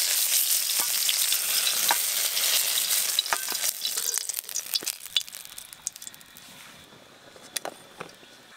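Potatoes frying in the same oil just used for small garden eggplants make a bright, close crackling sizzle with sharp pops and stirring clicks, gradually calming to a quieter hiss with scattered spatters; no voices.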